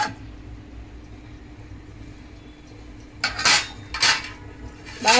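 A metal plate used as a lid is lifted off a pot of rice upma on the stove, giving a few loud, close clanks and scrapes of metal after quiet background hum.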